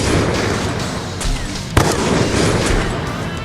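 Gunfire in the Free Fire battle game, with a sharp close shot standing out over a steady noisy wash of battle sound and scattered distant pops.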